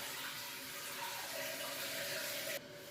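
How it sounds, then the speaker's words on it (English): A toilet tank refills after a running-toilet flapper repair, giving a steady loud rush of water that continues for over two seconds and then drops off sharply to a quieter hiss. "So now we just turn the water back on, let it fill up."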